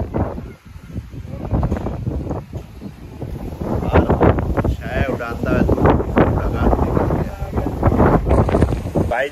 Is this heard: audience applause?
no